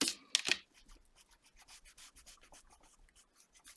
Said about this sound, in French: Je vais gommer mes lignes.